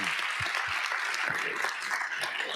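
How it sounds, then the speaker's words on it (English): At an MLK keynote celebration, an audience applauds the panelists, a moderately quiet, steady patter of many hands heard from a distance, with a few low thumps near the start. "Please give our panelists a round of applause"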